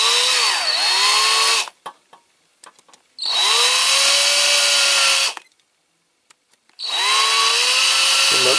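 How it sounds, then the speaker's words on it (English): A power drill whirs loudly in three sustained bursts drilling out small rivets on a Siku Magirus Deutz toy concrete mixer, each ramping up and running steadily, with short quiet gaps and small clicks between them. "I might drill these as well."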